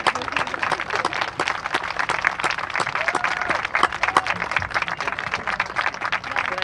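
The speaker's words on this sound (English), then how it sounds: "You want everybody to applaud that?" Wedding guests clap together in a lively round of applause, scattered sharp claps overlapping steadily across several seconds, with a few voices faintly beneath.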